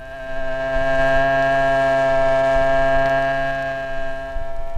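A 1962 Vickers hydraulic pump runs steadily at 900 RPM, giving off a loud, sustained tonal whine with strong harmonic hum. It holds constant throughout with no voices.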